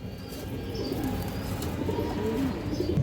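Pigeons of fancy breeds coo softly in a loft, low rolling calls repeating over a steady background murmur, with faint chirps above.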